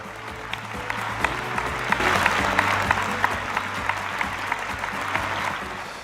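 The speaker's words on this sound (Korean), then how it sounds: "여러분 큰 박수로 마이크 펜스 부통령을 모셔주시면 좋겠습니다" Audience applause welcoming Mike Pence, US vice president, at a Unification Church event in Korea: steady, dense clapping from a large crowd sustained throughout, moderately loud with a few sharper claps standing out.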